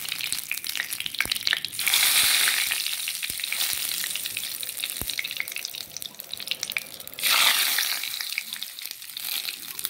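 Bay leaves sizzle loudly in hot oil in a tempering pan with a steady hiss that swells twice as more hits the pan, with occasional clicks.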